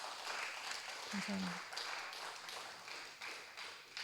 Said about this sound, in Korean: 이현주 자매에게 한 번 더 박수를 보내주세요